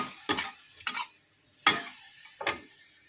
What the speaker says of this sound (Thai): แล้วก็ผัดให้มันเข้ากัน